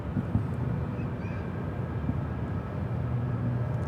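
An Airbus A350 takes off from Charlotte Douglas International Airport, a steady, broad low roar of jet engines held at an even level throughout, with a wind-like rush over it.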